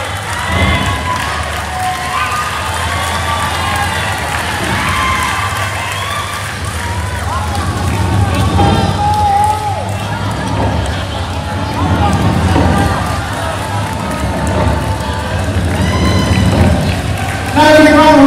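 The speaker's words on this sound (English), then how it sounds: "Now, a round of applause, ladies and gentlemen." Loud applause and cheering from a crowd after a fight at a martial arts event, sustained throughout, with an announcer's voice and crowd chatter mixed in.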